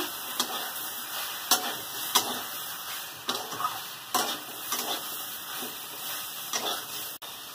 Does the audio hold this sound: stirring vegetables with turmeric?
yes